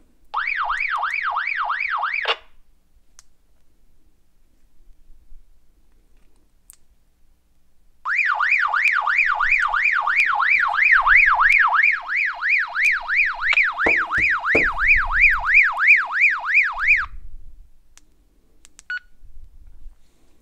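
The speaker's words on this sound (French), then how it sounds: "Si je reste appuyé, on va passer à un signal d'urgence." Emergency alarm signal from a Retevis RB27B walkie-talkie, a loud warbling electronic tone in a short burst, then a longer sustained stretch, with a second radio pulsing the same alarm and a brief voice near the end.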